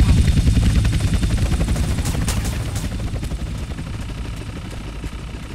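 A helicopter in Grand Theft Auto: San Andreas, a loud steady rotor chop with a rapid pulsing beat over a low engine drone, slowly easing away, with a few sharp gunshot-like cracks near the middle.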